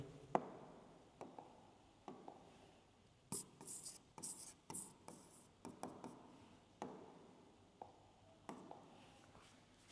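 Hand-written notes on paper, heard as soft scratchy pen strokes and rubbing in short irregular bursts, close and quiet with brief gaps.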